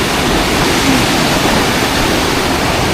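A waterfall in Camarines Sur, Bicol, pours in a steady, loud, close rush of falling water with no other sounds.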